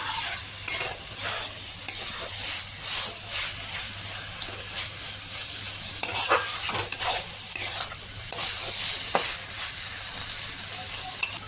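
Food frying in a pan sizzles steadily while a spoon stirs and scrapes it in repeated sharp strokes, close and fairly loud, with no talking.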